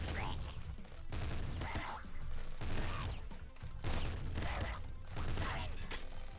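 Rapid gunfire from the video game Nuclear Throne rattles in dense bursts separated by short gaps, repeating about every second across the whole stretch at moderate level.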